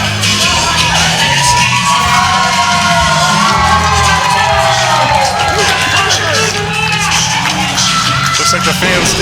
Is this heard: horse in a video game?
no